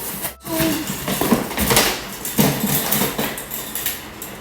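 Metal grilling trays clatter and scrape as they come out of a box, with a short sharp metallic knock near the start followed by several lighter rattles and shuffling.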